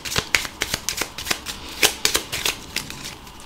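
Tarot cards are shuffled close up, riffled in a quick run of crisp, flapping snaps with brief irregular pauses and no talking.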